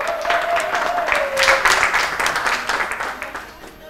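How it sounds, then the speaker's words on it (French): Audience applause for chef Monsieur Pierrot at a Miss Vodacom pageant gathering: a steady patter of many hands clapping through the clip, with a voice carrying over it early on. "Donc, on peut l'applaudir"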